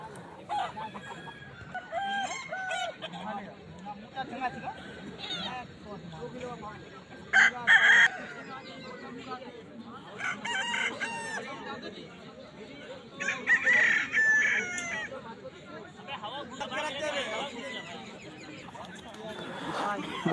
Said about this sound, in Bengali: এখানে একটি সাদা মোরগ দেখতে পাচ্ছি